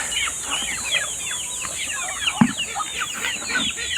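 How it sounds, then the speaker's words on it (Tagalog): Ducks call in a farmyard, busy overlapping quacks and chatters close by, with one sharper call standing out briefly, no talking. "So, ayan yung ating mga itik."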